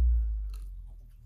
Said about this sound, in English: I'm just having trouble chewing all the chicken.